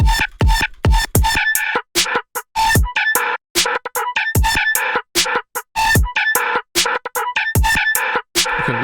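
Rapid, electronically sped-up chicken clucks and rooster crows burst in quick, choppy succession, loud and close with brief gaps between them, and no talking.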